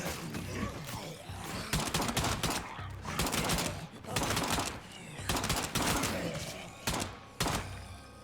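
Bursts of automatic gunfire in State of Decay 2 as ferals are shot, several rapid volleys separated by short pauses, with a player speaking over parts of it.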